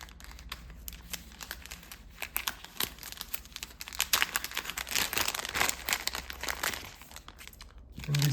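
Plastic packaging for a compact 240W USB-C charging cable crinkles and crunches up close as it is opened, a steady run of rustling and tearing that grows busier midway.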